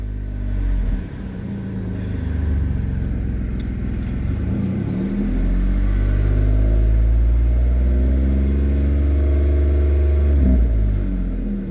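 A 2008 Pontiac G6 GT's 3.5-litre engine, heard up close at operating temperature as it climbs from a rumbling idle into sustained revving with a steady, heavy drone that rises and wavers in pitch over about ten seconds, unaccompanied by speech.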